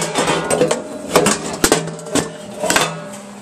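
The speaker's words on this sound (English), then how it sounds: "So I got my knife. I'm going to cut open this pepper." A knife chops through a bell pepper on a wooden cutting board, giving about six sharp, close knocks in an uneven rhythm with nothing else around them.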